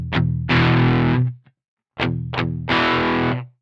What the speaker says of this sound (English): you get a real twangy tone whenever you're going on the bridge